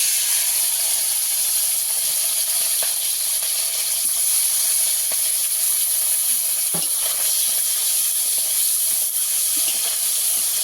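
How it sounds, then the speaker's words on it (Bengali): Small khalse fish frying in hot oil, a loud, steady sizzling hiss that continues unbroken, with occasional faint pops and spatters close by. "এইভাবে মাছগুলোকে আমি ভেজে নিয়েছি বাকি মাছটাও ভেজে নেব"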